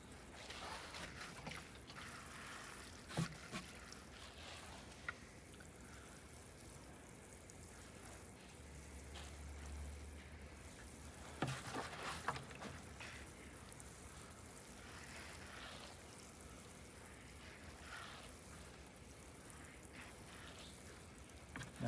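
Water pours and trickles onto the layered soil and mushroom compost of a lasagna garden bed, a soft continuous splashing with a few light knocks.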